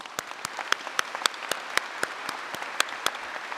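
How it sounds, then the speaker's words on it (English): Sparse applause from a graduation ceremony audience, with individual claps standing out in an uneven rhythm at moderate volume, heard without voices. "please join me in giving them a big round of applause"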